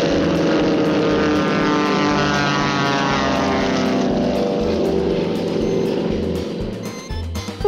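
A steady, loud propeller drone from a toy sport airplane buzzes continuously, like a small plane engine holding its pitch, fading slightly with a click at the end.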